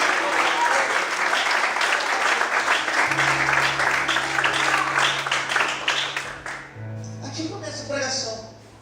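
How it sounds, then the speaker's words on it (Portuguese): A church congregation claps in sustained, dense applause for several seconds before it fades, with a voice speaking over it and a low sustained tone under the later part. "Quantos podem aplaudir e glorificar o Senhor?"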